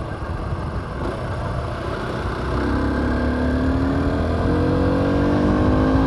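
Aprilia SX125 supermoto motorcycle from 2021, its single-cylinder engine idling and then revving up, the pitch rising and holding steady, loud and close with no talk over it.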